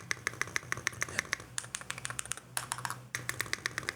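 Crisp, rapid typing on a Lemokey P1 Hall effect mechanical keyboard, a steady run of clacky keystrokes with a short pause near the end, close and clear with no talking.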